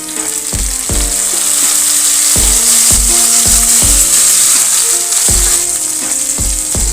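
Onions and tomato frying together in a pan for Andhra-style gongura rice, a loud steady sizzle broken by repeated scraping knocks of a spatula stirring against the pan.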